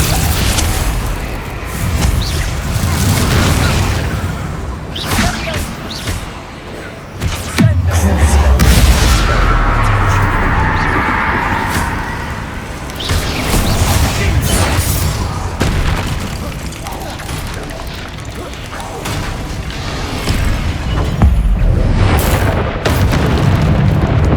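Confringo blasting spells in Hogwarts Legacy set off repeated heavy booms and crashing explosions across a sustained din of combat, with a voice casting over the noise.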